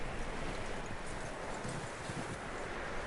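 Horse hooves clip-clop steadily in Red Dead Redemption 2, a continuous rhythmic trotting with rustling outdoor ambience, fairly loud and close, no speech over it.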